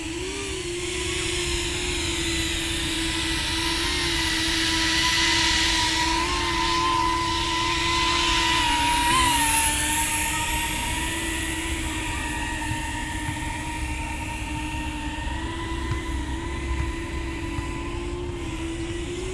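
A cinewhoop FPV drone on Gemfan 75mm props and a 4S 850mAh battery flies continuously, giving a loud, steady high-pitched motor whine and whooshing drone that shifts slightly in pitch as it manoeuvres.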